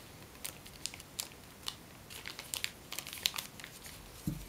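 Paper creased into an origami valley fold for a Mockingjay model, giving soft crinkling and crackling rustles in short bursts, close and fairly quiet, with no voices.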